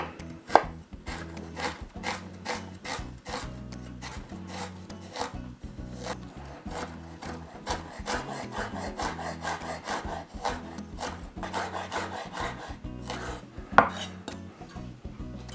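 A knife finely chops a chunk of ginger on a chopping board, rapid close wooden knocks in a dense, fairly even rhythm with a couple of louder strikes, no voices.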